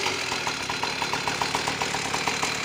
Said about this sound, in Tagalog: gas scooter.